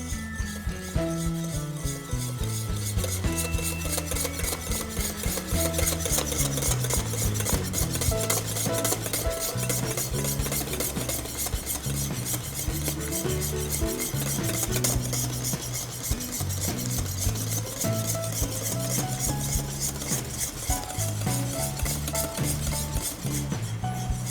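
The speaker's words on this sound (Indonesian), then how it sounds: "Kita masukkan sedikit demi sedikit sambil kita aduk." Steady, rhythmic scraping of a utensil in a bowl as melted chocolate mixture is stirred into brownie batter, continuous and close, with background music running underneath throughout.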